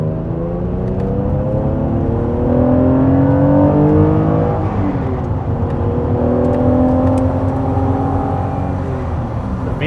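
A J-swapped, supercharged Honda NSX accelerating hard on a race track, its engine note rising through the gears in a loud, continuous roar with shifting harmonic sweeps and no talking.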